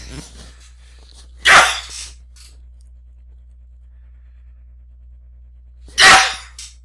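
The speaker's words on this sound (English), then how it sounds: "I'm sorry, I'm going to have to sneeze." Two loud, sharp sneezes burst out several seconds apart, each followed by a short breathy trailing sound, with near silence between them.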